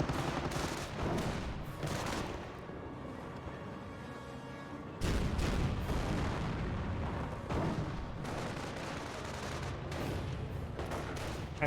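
In a Company of Heroes match, gunfire rakes Panzer Grenadiers amid a dense, rumbling battle din of heavy shots and blasts, growing louder partway through.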